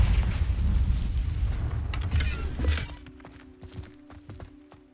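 The Confringo explosion spell in the video game Hogwarts Legacy lands as a heavy, rumbling blast, with crackling debris over the first three seconds. Scattered clicks and a faint tonal hum follow as it fades.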